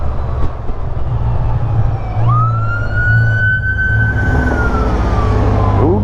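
An emergency vehicle siren passes close by, a loud wailing tone that sweeps up and then slowly falls, over heavy engine and road rumble.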